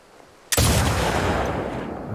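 A single loud gunshot from a long-range rifle in The Last of Us Part II, a sharp crack after near-silence followed by a long rolling echo that fades slowly.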